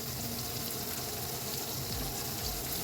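Carrot, broccoli and capsicum frying in a pan for vegetable noodles, a steady, fairly loud sizzle with faint stirring, no talking.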